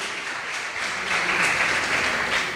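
A church congregation applauding during a worship service, a steady patter of clapping that swells louder halfway through, moderately distant, with no speech.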